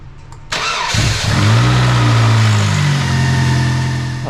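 A 2003 Chevy Cavalier four-cylinder cranks briefly, then catches and roars up loud and close before settling into a steady, rough idle.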